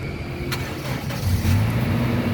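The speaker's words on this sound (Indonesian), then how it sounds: "sekarang kita coba nyalakan mobil ya" A 2012 Toyota Kijang Innova 2.0 G with automatic transmission cranks and starts, then settles into a close, steady idle hum that swells slightly partway through.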